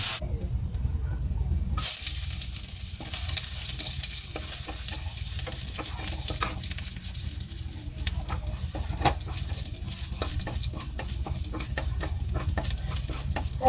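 Pancit guisado stirred in a hot pan, continuous loud sizzling with scraping and tossing noises from the utensil throughout.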